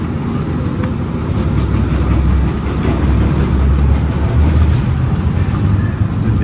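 A Vampire roller coaster train rolls into its station with a loud, steady low rumble that swells and holds for several seconds, close by and without talk.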